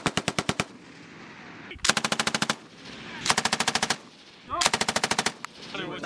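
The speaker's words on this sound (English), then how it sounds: "Gun two, fire!" Bursts of blank machine gun fire as US and UK soldiers zero MILES laser gear on a range, four loud rapid rhythmic strings of shots separated by brief pauses, close and dominant.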